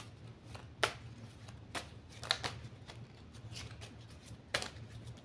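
An angel oracle card deck is shuffled close by and quietly, its cards riffling and slapping in soft, quick bursts with brief pauses between.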